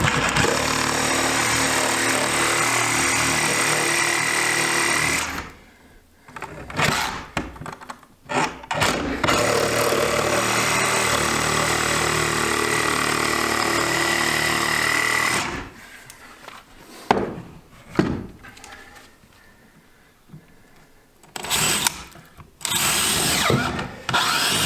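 Sawzall reciprocating saw cutting during Provent installation and insulation prep, a loud buzzing rasp in two long bursts of several seconds each, separated by pauses with short starts and stops, close by and with no talk.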